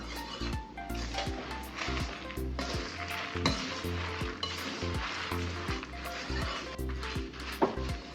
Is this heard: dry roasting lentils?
yes